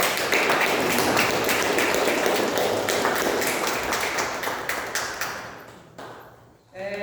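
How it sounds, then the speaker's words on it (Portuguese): A church congregation claps together in a dense, sustained burst of applause that fades toward the end, followed by a brief voice. "As palmas do Senhor Jesus."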